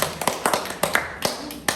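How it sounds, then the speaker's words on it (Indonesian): A few people in a classroom clap sparsely after a group presentation, scattered sharp claps with uneven gaps, close and distinct rather than a dense round of applause. "Tepuk tangan dulu."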